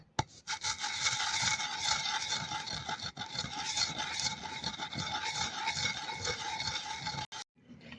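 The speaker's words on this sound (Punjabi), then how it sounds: "ਇਹਨੂੰ ਆਪਾਂ ਕੁੰਡੇ ਵਿੱਚ ਪਾ ਕੇ ਪਹਿਲਾਂ ਇਹਨੂੰ ਕੁੱਟ ਲਾਂਗੇ" Whole coriander seeds are worked in a mortar for a Punjabi achari chutney, giving a continuous close gritty grinding and scraping with a few sharp knocks and no talk.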